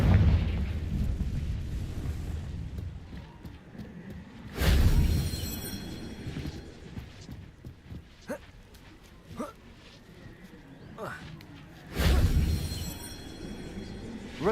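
Confringo explosion spells in Hogwarts Legacy, two loud booming blasts a few seconds apart, with softer magic effects and game sounds between them.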